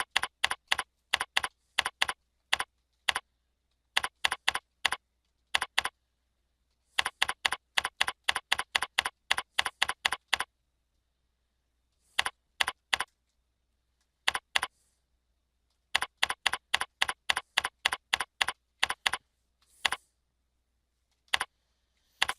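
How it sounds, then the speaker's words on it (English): Data is typed on a computer keyboard in quick, close bursts of crisp key clicks, separated by short silent pauses, with no voice present. "So I'll go ahead and type that in, and then I'll type in all the observations."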